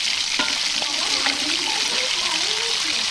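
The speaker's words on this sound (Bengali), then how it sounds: "ভাজা আলু দিয়ে কষিয়ে নেব।" Mutton curry with fried potatoes being sautéed in a pan, giving a close, steady sizzle with scraping stirs and wet splatters throughout.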